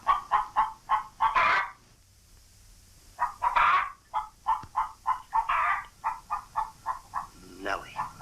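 A hen clucking in rhythmic bursts of short, nasal calls in two bouts separated by a pause, loud and close, with some voices mixed in.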